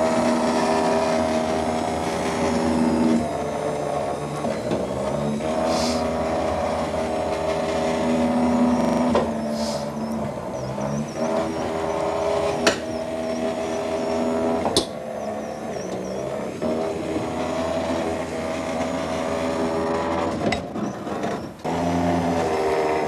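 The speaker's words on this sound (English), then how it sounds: "Notice how it lifts the wheel up, over the edge and sets it down" Escalera MS66 stair-climbing machine working its way up steps, lifting its wheel over each edge; a steady mechanical motor whir with shifting tones and occasional clunks as the lifting feet set down.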